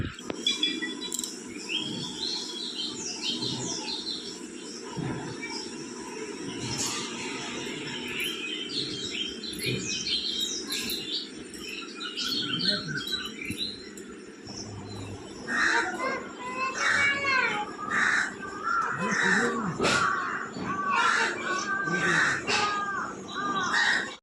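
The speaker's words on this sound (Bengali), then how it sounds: "তোমাদেরকে পাখির ডাক শোনাবো" A busy chorus of birds chirping and crows cawing repeatedly, continuous for the whole stretch, growing louder and denser in the second half.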